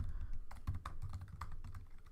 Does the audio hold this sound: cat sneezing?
no